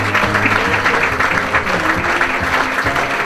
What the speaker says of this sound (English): if we can have a round of applause for our runner-up